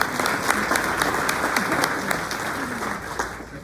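Audience applause at a morning graduation event in Corona, welcoming a security company's representatives: a steady wash of many hands clapping, sustained and even across the whole stretch, with a voice briefly audible underneath.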